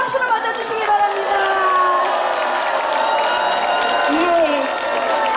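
An audience cheers, claps and calls out at a countryside culture festival in Yangnam to welcome a child trot singer, a steady, dense crowd roar with whoops that lasts throughout.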